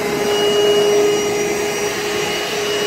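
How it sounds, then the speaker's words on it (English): Milwaukee M18 VC-2 cordless vacuum cleaner running at close range, a loud, steady motor whine and airflow hiss holding constant for the whole stretch with no talking. "That's probably about the same noise as an actual Hoover you get."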